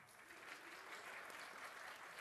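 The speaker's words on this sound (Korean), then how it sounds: "박수." An audience of middle-school students claps steadily throughout a church youth worship service at Yangjae Onnuri Church, a continuous, even patter of many hands in a hall.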